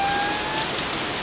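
Rain falling outside, a steady close hiss of drops on a surface, with no talk.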